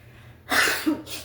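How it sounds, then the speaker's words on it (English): A single sharp sneeze bursts out close by, followed by a brief breathy exhale, otherwise quiet. "I'm about to sneeze."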